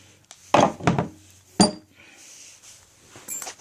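An old rusty vise from a flea market handled on a hard surface, giving a few loud metallic clanks and knocks in short bursts with quieter shuffling between, no talking.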